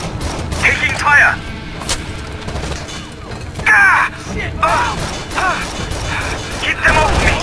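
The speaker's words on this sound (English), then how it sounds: "Taking fire!" Gunfire in Rainbow Six Vegas: repeated loud bursts of automatic shots and mechanical clatter come in clusters against a busy combat background, close and heavy, with voices speaking amid the shooting.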